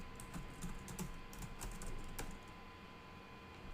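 Keys tapped on a computer keyboard in a quick, irregular run of light clicks, fairly close and moderately quiet over a steady background hum, with the clatter thinning out toward the end.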